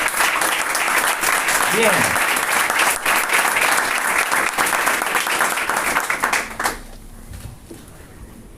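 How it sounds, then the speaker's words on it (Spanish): Church congregation applauding loudly and steadily for about six and a half seconds, then stopping abruptly; a voice speaks briefly over the clapping, and a quieter room follows. "Denle un fuerte aplauso al Señor."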